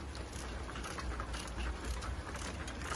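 Steady rain patters outdoors while a camper is set up in muddy ground, a dense, even hiss of drops with low rumbling wind underneath, continuous and fairly close throughout.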